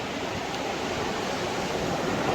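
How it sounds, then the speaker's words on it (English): Ocean waves crashing at Las Cuevas Beach in Trinidad, a steady loud roar of surf filling the whole stretch with no break and no voices. "the waves are crashing so loud"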